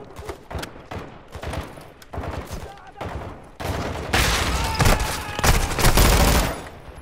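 Sustained gunfire from a military shooter campaign, Modern Warfare II, with bursts of rifle and machine-gun fire building into a loud, dense fusillade, heard alongside urgent shouted voices.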